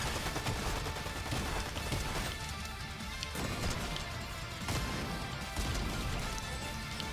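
Shotgun blasts ring out in a video game as dense, loud bursts of gunfire and crashes, repeating through a noisy, chaotic stretch of play.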